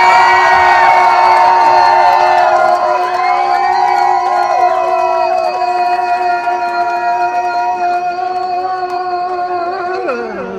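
A crowd at a live radio performance cheers and whoops, one loud sustained wall of voices holding for several seconds before tapering off at the end.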